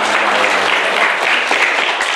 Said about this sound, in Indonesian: Beri tepuk tangan dulu buat Mas Ardan.